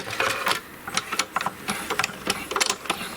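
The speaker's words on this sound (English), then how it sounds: "it gets squeezed through the die cutting machine" A hand-cranked die cutting machine presses a letterpress plate, producing a close run of rhythmic mechanical clicks, rattles and grinding as the plate is squeezed through the rollers, with no voices.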